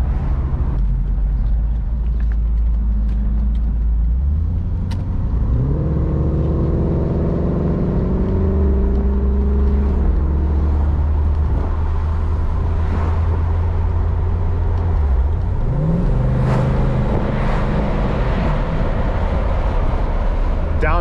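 A 1985 Corvette coupe driving on the road and accelerating through its gears, engine pitch climbing then falling with each smooth shift under steady road rumble, heard from inside the cabin.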